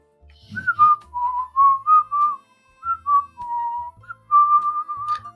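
A person whistles a cheerful, wandering melody of sustained tones and short slides, phrase after phrase with brief pauses between them, close and clear with no talking.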